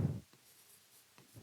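Pen writing on paper during a maths lesson, a few soft, brief scratching strokes, close and quiet after a short voice at the start.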